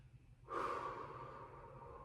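During a stretching session, one long, audible inhale through the nose starts abruptly and tapers off over about a second and a half, close to the microphone and alone.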